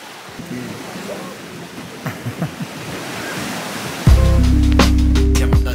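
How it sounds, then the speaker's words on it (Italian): Sea waves wash steadily onto a beach in Ibiza, a continuous broad surf rush with some wind, until a loud low tonal sound abruptly enters and overlays the waves near the end. "Siamo andati al mare in questo posto straordinario."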